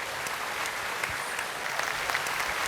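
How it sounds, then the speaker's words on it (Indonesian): A studio audience at a talk show breaks into steady, sustained applause, a dense wash of many hands clapping at once, even in loudness throughout with no speech. "Tepuk tangan dong untuk Pak Yusuf Kala."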